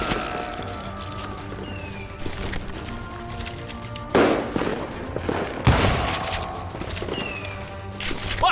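Western-style gunfire rings out in the video game Call of Juarez: Gunslinger, scattered shots and bursts among a busy in-game soundscape with music and ambient clatter, a couple of louder blasts standing out near the middle.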